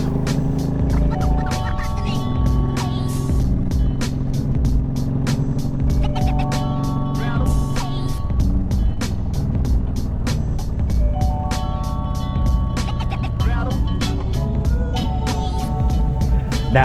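A Honda VTX bagger motorcycle rides steadily with a deep engine rumble, while music with repeating melodic phrases plays loudly over it.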